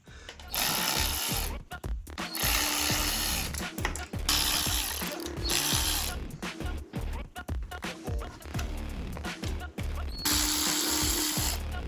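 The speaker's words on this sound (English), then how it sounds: "Then I continue with the power tools." Bursts of a power tool loosening motorcycle fork bolts on WP 43mm forks, a rapid mechanical ratcheting buzz that starts and stops repeatedly in short runs, close and loud with brief pauses between.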